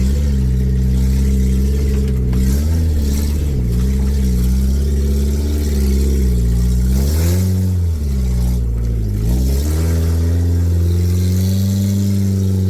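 An old Suzuki engine revs hard in two-wheel drive while climbing a very steep hill. It is loud and continuous, with the pitch surging up and down as the throttle is worked, and no talk over it.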